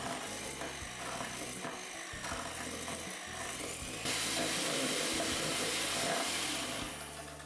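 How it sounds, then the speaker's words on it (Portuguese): An electric mixer beats butter with a pinch of salt into a light, fluffy cream, a steady close whirring and churning that runs without a break and grows louder and brighter partway through. "Vou bater até formar um creme claro e fofo."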